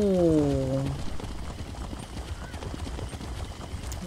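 Horse in The Elder Scrolls Online gives a short whinny, then its hooves clip-clop in a steady riding rhythm at moderate volume, with no voice over it.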